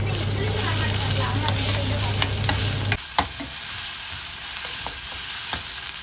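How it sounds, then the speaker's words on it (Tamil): Onions frying in a pan for sambar, a steady sizzle with occasional stirring clicks, loud and close for the first half, then a quieter sizzle with scraping taps after the heat settles. "நல்லா வெங்காயம் நல்லா ஃப்ரை ஆகட்டும்."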